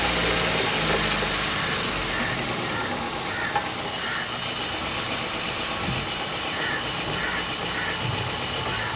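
Idling engine of a Toyota GLi car raised on a workshop floor with the wheel removed and hub spinning, a steady close low hum with faint vibration and no speech.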